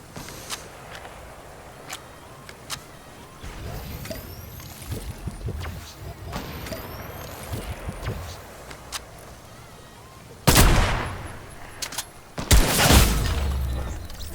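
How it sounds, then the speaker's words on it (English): Sniper gunfire in the video game Fortnite, two loud sharp shots near the end following a stretch of quieter in-game ambience with scattered small clicks and steps. "Sniper fight. Whoop. Missed again."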